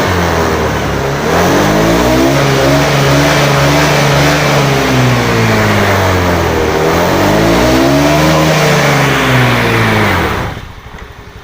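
Motorcycle engine revved up hard, with rising and falling throttle sweeps that stay loud and close for about ten seconds before cutting back to a quieter idle; the bike has a speedometer that doesn't work.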